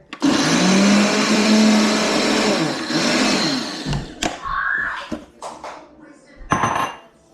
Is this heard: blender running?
yes